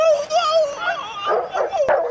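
A dog in the film Rocky (1976) gives short, whiny yelps and vocal barks, close and fairly loud, over about two seconds.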